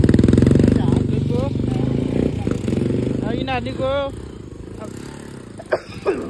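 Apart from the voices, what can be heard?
modified motorcycle engine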